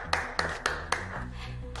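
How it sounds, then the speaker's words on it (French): A few sharp hand claps ring out in a room, four distinct spaced claps and then a quieter one, short and close, with no talk over them. "Ah, elle arrive. On applaudit."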